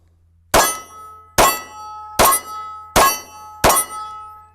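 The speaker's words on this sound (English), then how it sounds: "I'm gonna shoot 5 rounds of Federal HST 124 grain defensive ammo." Five sharp pistol shots of Federal HST 124 grain defensive ammo fired from a Micro Dagger slide on an SCT43sc frame, evenly spaced about a second apart, each with a loud metallic crack and brief ringing decay.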